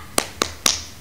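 Three crisp, evenly spaced claps ring out close and fairly quiet, opening a children's Sunday school "tepuk semangat" clapping chant during a home worship session.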